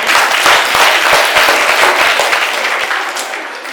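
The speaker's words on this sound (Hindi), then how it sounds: "सभी बच्चों के लिए, सभी का आने के लिए जोरदार से तालियों से स्वागत है" Loud, dense audience applause at an Independence Day celebration in India, following a children's performance, sustained for several seconds and easing slightly toward the end, with no speech over it.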